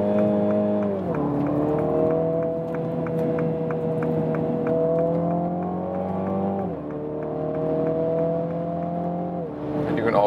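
A 2021 John Cooper Works Mini Clubman with 306 hp, running in sport mode, gives a steady engine drone that climbs with revs. A sharp drop and jolt at each gear change marks the shift punch, once near one second and again around seven seconds.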